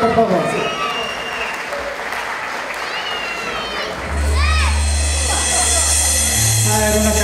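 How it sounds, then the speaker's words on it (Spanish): Crowd applause at an outdoor patron saint festival, scattered clapping and cheering mixed with children's voices and people talking, then a loud low droning tone and music-like sounds swell in halfway through. "Un aplauso para los organizadores, por favor."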